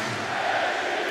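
A large Prague arena crowd at a USA versus Czechia ice hockey world championship game keeps up a dense, steady roar of voices and cheering, loud and continuous throughout.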